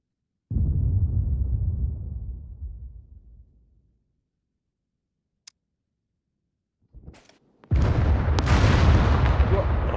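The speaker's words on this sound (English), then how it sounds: "I tried throwing a grenade up there" In the survival shooter Scum, during a PvP team deathmatch, a grenade goes off with a heavy boom that rumbles away over a few seconds. After a silence with a small click, another loud, harsh burst of noise starts abruptly.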